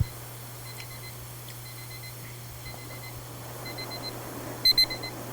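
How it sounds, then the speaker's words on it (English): A timer in a game on the Wii gives faint, thin electronic beeps in a sparse, repeating pattern over a steady low hum, with a louder cluster of beeps near the end. "I found the timer. It's working."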